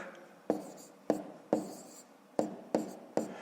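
Pen writing out a long division problem on paper, six short scratchy strokes in an irregular rhythm, close and quiet, no talking.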